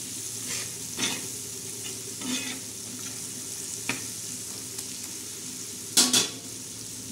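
Dry chutney ingredients roasting in a pan for a prawn chutney, a soft steady sizzle with intermittent scraping stirs and a couple of sharper clinks of a spoon against the pan near the end.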